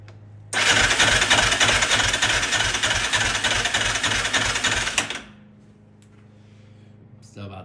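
Yamaha Raptor ATV engine cranking over with the throttle held open for a compression test, a loud rapid rhythmic chugging for about five seconds that stops abruptly, with talking around it.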